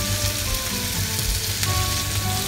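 Chicken tikka skewers sizzle steadily in a pan on the stove, a dense, even crackle of frying that stays close and constant throughout, with no talk.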